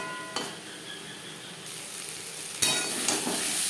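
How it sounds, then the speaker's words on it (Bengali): Jute leaf greens are stir-fried with spices in a pan, a close, continuous sizzle broken by a few sharp scraping stirs, louder toward the end. "মশলার সাথে সবজি কষাবার সুবিধার জন্য আর তিন চার মিনিট রান্না করব"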